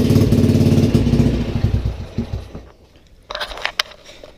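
A Honda Wave motorcycle engine runs loud and rough with a steady clattering idle, then cuts out and fades, leaving a few metallic knocks and clicks afterward.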